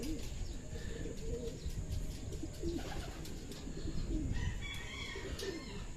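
Racing pigeons arriving at a loft after a race from Sta. Rosa, Laguna, cooing repeatedly near at hand over a steady outdoor background, with scattered chirps and faint wing flaps, and no talk during the clip.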